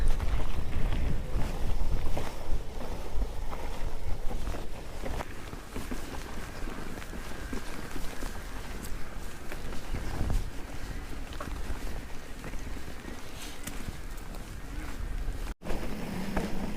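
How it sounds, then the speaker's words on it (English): A cold wind buffets the microphone on a rocky mountain bike trail near Ladybower, a steady rushing roar with gusty low rumbles, heavier at the start, and a brief dropout near the end. "a cold wind."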